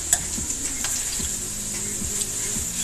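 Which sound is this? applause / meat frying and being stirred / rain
meat frying and being stirred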